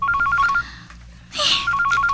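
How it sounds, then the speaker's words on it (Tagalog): A telephone rings in repeated short electronic bursts, loud and close, with a brief gap of other noise between rings and no talking. "Nagring ang telepono."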